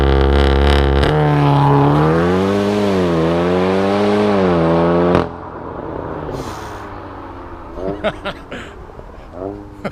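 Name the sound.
540 bhp tuned Golf R accelerating hard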